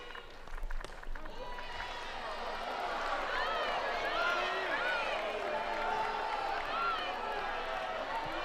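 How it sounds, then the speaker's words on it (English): A softball crowd at an NCAA college game between Arkansas and Duke murmurs and calls out in disapproval, a sustained swell of many voices with scattered shouts and whistles, fairly distant. "Crowd didn't like that call"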